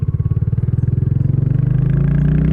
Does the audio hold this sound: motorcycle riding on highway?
yes